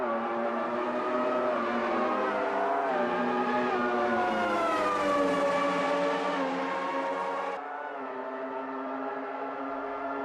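Formula One cars race around Interlagos in Automobilista 2, their high-pitched engines wailing as they rise and fall through gears. One car's whine climbs steadily, peaks, then drops away sharply. The engine sound is loud and continuous throughout, with no voices.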